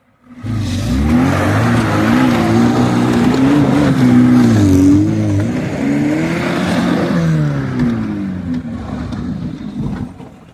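A Niva or Jeep off-road car reverses in deep snow in a canyon, its engine revving loud and close with rising and falling pitch for several seconds before easing off.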